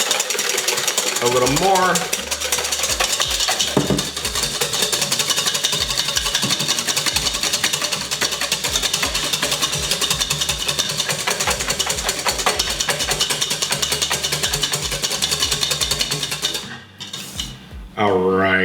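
Egg whites are whisked with a teaspoon of sugar toward medium peaks for apple beignet batter. A fast, continuous rattling and scraping in a bowl runs throughout, with a person talking over it before it stops near the end.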